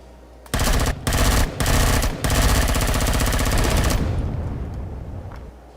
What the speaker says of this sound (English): someone is shooting at us